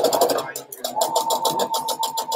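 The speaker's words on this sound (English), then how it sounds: "my sewing machine is way too loud" A sewing machine stitching face masks, a rapid mechanical chatter in quick regular bursts with a brief pause and restart, close and fairly loud.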